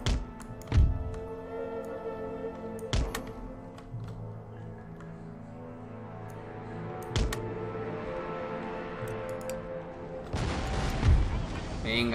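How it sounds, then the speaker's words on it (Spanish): Cannon fire in the PC strategy game Empire: Total War, several heavy booming thuds spaced seconds apart over a steady battle ambience. "Esos cañonazos están muy, pero que muy guay."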